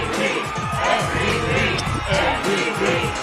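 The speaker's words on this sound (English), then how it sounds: "I hear the MVP chants from the crowd." A large crowd at a Green Bay Packers Clubhouse Live event chants "MVP" in loud, rhythmic unison, the chant rolling on continuously with cheering mixed in.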